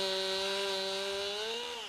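A chainsaw runs steadily at high revs while cutting through a tree that fell onto a street in Greenville, taking a utility pole down with it. The engine is loud and close, with its pitch dipping slightly near the end.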